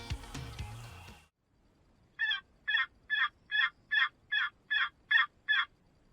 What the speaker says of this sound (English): This turkey came out of nowhere, and he attacked the decoy